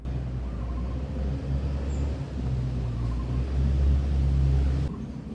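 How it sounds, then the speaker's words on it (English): A steady low rumble of street traffic in Bangkok, with cars passing by at a moderate distance and no voices. "maybe you can hear boats and cars going by"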